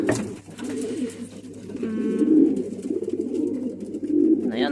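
Pigeons coo steadily in a breeding loft with young birds, a soft, continuous layer of low throaty calls close by, with no talk.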